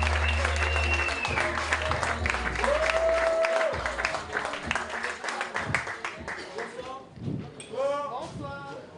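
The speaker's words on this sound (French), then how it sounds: "Monsieur Léo Cadi, un tonnerre d'applaudissements pour lui, s'il vous plaît." Comedy club audience on Réunion bursts into applause, a dense sustained clapping that swells under a host speaking over a microphone, then thins out while music and voices continue.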